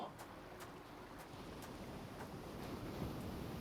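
Wind gusting in Hades, a steady broad rushing roar that swells slightly toward the end, with faint periodic ticks over it.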